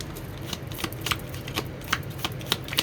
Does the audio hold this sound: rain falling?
no